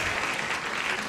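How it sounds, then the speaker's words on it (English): Studio audience applause on a TV show, a steady wash of clapping that is fairly quiet and alone, with no speech over it. "Your applause is lukewarm"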